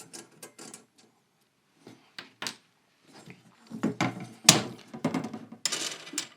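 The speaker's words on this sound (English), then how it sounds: "We need an Allen key. Simply undo this bolt." An Allen key works a bolt loose on a T-ruler, giving sparse close metallic clicks and small knocks that grow into a busier cluster of scraping, rattling taps toward the end.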